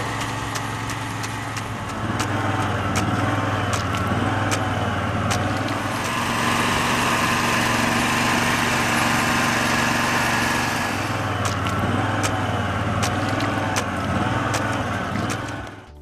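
Small engine of a rice transplanting machine running steadily in a flooded paddy field, a constant mid-level drone with faint clicks and outdoor noise around it.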